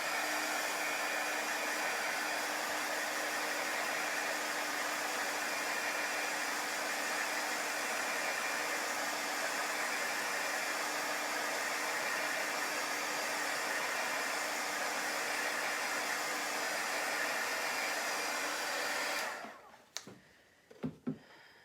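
A hair dryer blows steadily on chalk paste for about twenty seconds, a loud continuous whoosh with a faint motor hum, then cuts off, leaving a few soft handling clicks.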